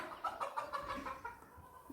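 Broody hens clucking in a series of short, close, repeated calls in a backyard poultry setting, loudest in the first second and then trailing off over a quiet outdoor background.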